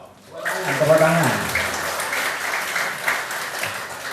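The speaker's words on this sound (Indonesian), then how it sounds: "Tepuk tangan." Audience applause at a religious debate, a burst of clapping from the crowd that rises quickly and holds steady for several seconds, with a voice briefly audible at the start.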